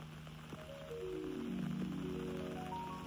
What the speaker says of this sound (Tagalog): Ang lakas ng ulan guys ha.